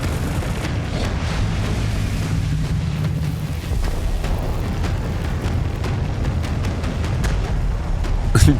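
An explosion in the video game Star Citizen, a sustained, loud, rumbling blast with crackling debris through its length, ending in a sharper burst at the close.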